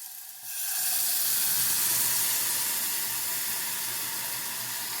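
Tomato sauce sizzles and steams in a hot pan while cooking a topping for a BBQ spicy meat feast pizza. A brief quieter opening gives way to a loud, steady, close hiss that carries on alone to the end.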